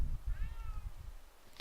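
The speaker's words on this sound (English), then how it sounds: "Shut up, cat." An animated cat meows in a film scene, a short rising-and-falling cry in the middle of the moment, heard over a dense low soundtrack rumble.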